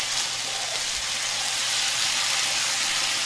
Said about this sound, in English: It's really sizzling. So you saute it until the meat is completely cooked.